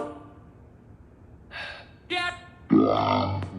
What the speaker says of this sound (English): Somebody just belched.